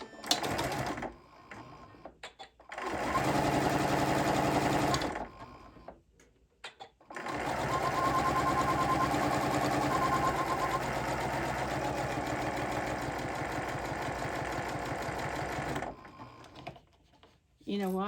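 A sewing machine runs in bursts, stitching quilted placemats in a sewing class, its rapid mechanical whir starting and stopping between pauses, with one long steady run in the middle.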